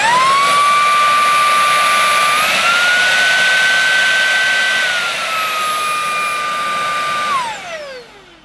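Shark Wandvac Pet 2-in-1 cordless vacuum cleaner running loud and close, a steady high motor whine that rises in pitch when suction is boosted, then falls and winds down at the end.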